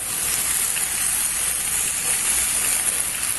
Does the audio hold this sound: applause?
no